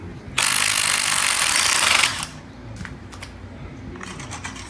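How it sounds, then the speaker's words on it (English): A 22mm socket on a ratchet buzzes in a long continuous burst while loosening the cap of a front air ride cartridge on a Victory Cross Country motorcycle, then a few sharp clicks follow, close and loud. "I'm going to take my 22mm socket and I'm going to take the cap of this off."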